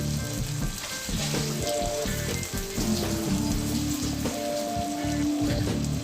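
Rice with ground beef and peas sautéing in a pan gives a loud, continuous sizzle with scraping and stirring clatter throughout, no voices.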